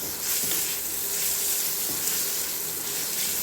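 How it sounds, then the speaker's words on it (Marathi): Chopped onion sizzling and frying in hot oil with ginger, garlic and green chili paste added, a steady close crackle with faint stirring, no talk. "आता हे कांदा भाजत आला, ह्याच्यामध्ये ना हे अद्रक, लसूण आणि हिरवी मिरची ह्याची पेस्ट टाकायला बरं का"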